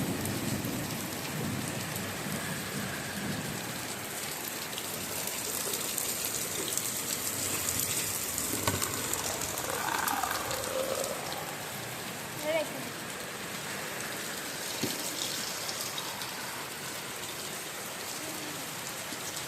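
Steady rain pours down on an outdoor surface while water is collected in buckets, a continuous loud hiss throughout with faint distant thunder and occasional brief voices nearby.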